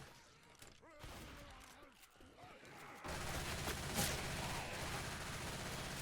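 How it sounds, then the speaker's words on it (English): Video game gunfire during a competitive Another World Cup 2026 match, starting as scattered shots under a speaking voice, then a dense, loud burst of sustained firing with a sharp crack near the middle. "Okay, stop shooting me."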